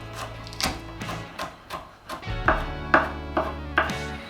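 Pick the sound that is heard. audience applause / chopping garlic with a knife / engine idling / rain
chopping garlic with a knife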